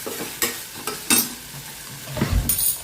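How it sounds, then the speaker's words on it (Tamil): Cut beans, potato and carrot are tipped into a pan of kurma and stirred, giving a few scraping, clattering stirs and a soft sizzle, close and fairly quiet with no talk. "இப்போ நம்ம கட் பண்ணி வச்சுருக்க வெஜிடபிள்ஸ் எல்லாம் நம்ம ஒன்று ஒன்றா சேர்த்துக்கலாம்."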